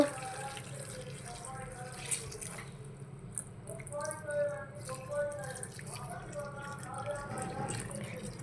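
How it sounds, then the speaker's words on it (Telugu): Hot water poured over cucumbers in a kitchen for a curry, a close running, splashing pour with gurgling trickles, while someone talks over it. "వేడి నీళ్ళు తీసి మనం దోసకాయలు వేసేసుకుందాం వేడి నీళ్ళు వేసేసుకుందాం"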